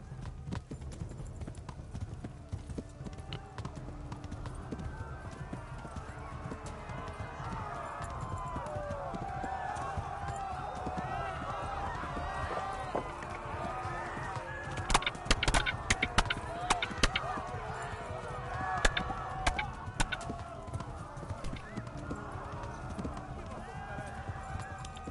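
A horse gallops with steady, fast clip-clop hoofbeats in the medieval video game Kingdom Come Deliverance, continuous throughout and growing more prominent in the second half.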